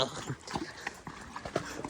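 Irregular horse hoof clops sound close by under a rushing, noisy background in Baisaran Valley, Pahalgam, with no clear talking.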